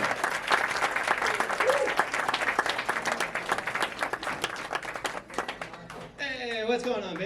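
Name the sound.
comedy club audience applauding comedian onto stage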